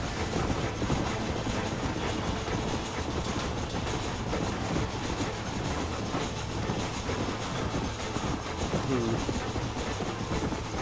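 A train rolls along rails in the Western video game Red Dead Redemption, a loud, steady rumbling roar with continuous clatter and hiss that carries on unbroken throughout.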